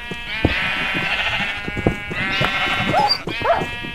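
Sheep bleat loudly and close together, overlapping calls over a steady busy background with some clattering and a few high squeaky tones.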